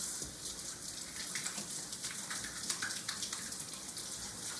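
Tap water runs steadily for hand washing, a soft continuous hiss and splash with small trickling variations throughout, fairly quiet and with no talking.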